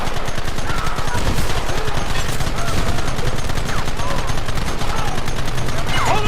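Rapid gunfire fills a Red Dead Redemption shootout in the Old West, dense overlapping shots and bursts crackling steadily throughout, loud and close, with shouted voices breaking through the barrage.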